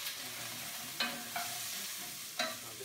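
Vegetables softening with onions in a hot pan for a rustic Spanish chicken dish, with a steady soft sizzle and three or four sharper scraping stirs spaced through the short stretch; no voices.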